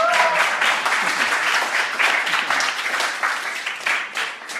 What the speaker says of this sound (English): He doesn't get a round of applause.